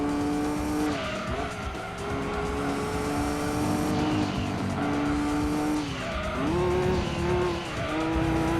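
A Nissan Skyline race car in Gran Turismo 2 climbs from low revs with a steady, loud engine drone whose pitch rises and dips through gear changes, mixed with tire squeal and no talking.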